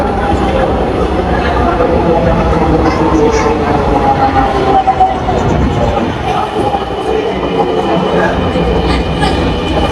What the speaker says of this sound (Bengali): কিছুক্ষণ পরেই কিন্তু আমাদের সেই কাঙ্ক্ষিত ট্রেন চলে আসলো